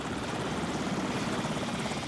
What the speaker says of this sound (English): Dozens of US-built helicopters.